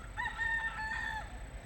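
A rooster crows once, a clear drawn-out cock-a-doodle-doo with a rising start and a long held note, close and alone over low ambient rumble, somewhere in Hawaii.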